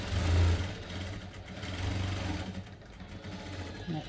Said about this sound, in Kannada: ಇಲ್ಲಿ ಈಗ ಎರಡೆರಡು ಸ್ಟಿಚ್ ಮಾಡ್ಕೋಬೇಕು